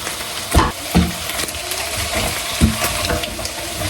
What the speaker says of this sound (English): you hear that sizzling? You hear that frying?